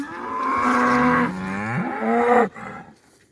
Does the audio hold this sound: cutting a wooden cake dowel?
no